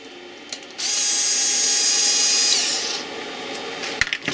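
A power drill backs out the fog light bracket screws on a 2003–2005 Subaru Forester, giving one steady high whine of about two seconds, close and loud, then stopping, with faint clicks of handling afterward.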